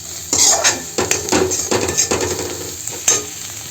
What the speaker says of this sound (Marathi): त्याला छान मिक्स करून घेऊया